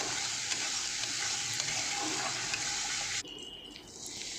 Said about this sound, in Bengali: মশলাটাকে সুন্দর করে ফ্রাই করে নেব